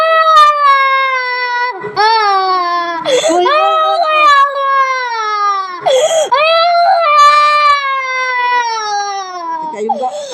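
A young child cries and wails after being sprayed in the eye, sobbing loudly in long rising and falling bursts broken by sharp gasps for breath.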